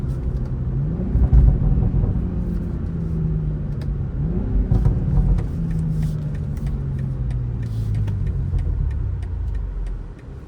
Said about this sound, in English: Kind of see the burbles on the downshifts as well here